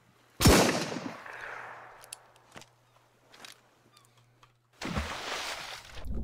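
A percussion pistol fires in the Sunkenland survival game: one loud, sharp shot with a decaying tail, then a few faint clicks and handling noises. A second burst follows near the end.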